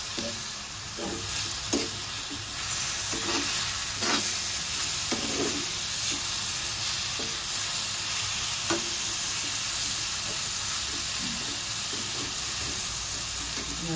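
Mashed brinjal bharta in green thecha is stirred and mixed in a pan, a constant hiss of cooking under soft irregular scrapes and wet thumps of the spoon, close up and steady, with no voices.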